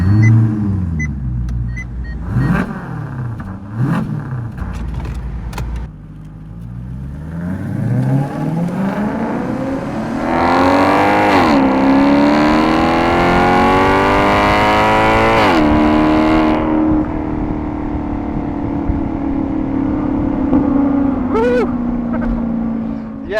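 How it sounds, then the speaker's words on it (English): Maserati GranTurismo with its Ferrari-derived F136 engine, shared with the Ferrari 458, howling loudly through repeated revs and upshifts, pitch climbing and falling in sweeping waves before settling to a steady drone. "that howl comes from the Ferrari-derived F136 engine that this car shares with the Ferrari 458"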